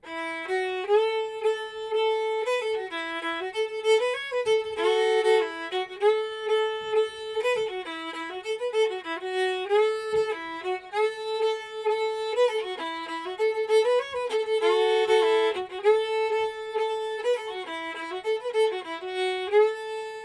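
Haymaker's Hoedown fiddle tune played up to tempo, a bright bowed melody of quick running notes with a steady lilting rhythm, close and solo for about twenty seconds.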